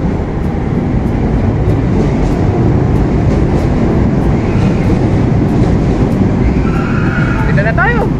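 A light rail (LRT) train rumbles steadily through a station with a constant mechanical roar and regular clicking, ending with a squealing metallic screech of brakes.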